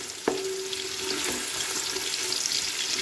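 Onions sautéing in a pan for a white chicken biryani, giving a steady close hiss of frying with a brief clink near the start and soft stirring scrapes throughout, no voices.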